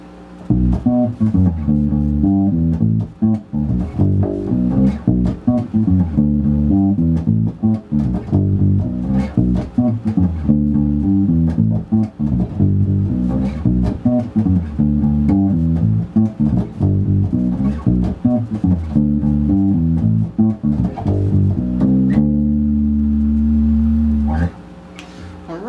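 Electric bass guitar playing a minor chord progression in a song demo, loud and continuous with plucked notes in a steady rhythm, ending on a held note.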